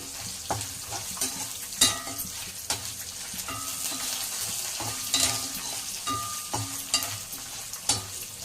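Garlic and ginger fry in a hot pan, a close, steady crackling sizzle broken by frequent scrapes and taps of a spoon stirring against the metal, with no voices.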